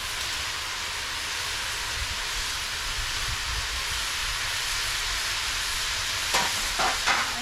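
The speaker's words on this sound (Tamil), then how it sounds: "பூண்டு எல்லாமே நல்லா வதங்கிடுச்சு இது கூட தேங்காய் போட்டுக்கலாம்" Garlic and coconut sautéing in a pan, a steady hissing sizzle close by, with a few spoon knocks and scrapes toward the end.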